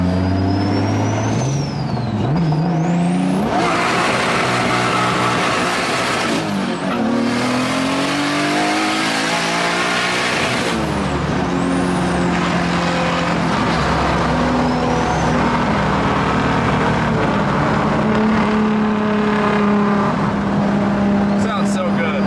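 A 2JZ-swapped car with a big turbo and over 600 horsepower accelerates hard, its engine note climbing through the gears with loud revving and shift breaks, while people talk over the roar.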